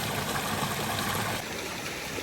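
A creek rushes steadily beside a small waterfall in winter, a dense, continuous wash of flowing water heard close and fairly loud, with no voices.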